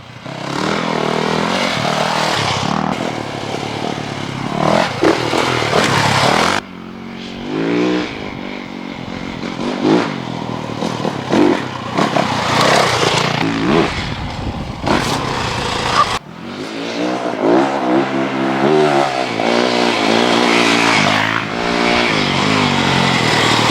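A 2019 Yamaha WR450 dirt bike ridden on a single-track trail, its engine loud and close throughout, revving up and down with repeated throttle surges, gear changes and brief dips.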